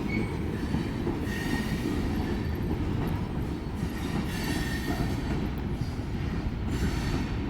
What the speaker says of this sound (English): It's a longer train